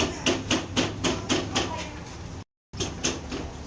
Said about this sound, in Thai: ลองค้อนแงะดูว่าจะออกง่ายไหม